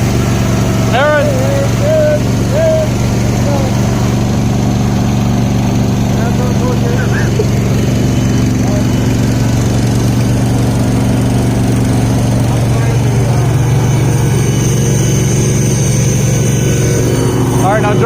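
Two garden tractor engines, a John Deere and a Cub Cadet built for pulling, run steadily at idle with a constant low drone, while people talk nearby outdoors.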